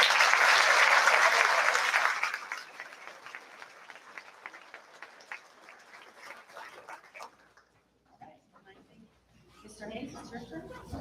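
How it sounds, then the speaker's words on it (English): A crowd at a fifth-grade school awards ceremony applauds loudly for two seconds. Scattered claps and faint murmuring from the room follow, and voices rise again near the end. "Give them a big round of applause."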